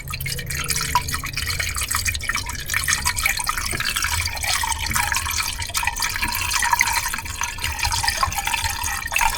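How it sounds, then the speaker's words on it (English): Coolant poured into the cooling system of a Porsche Cayenne GTS, trickling and splashing steadily and close by, with no voices. "let's add some coolant in here"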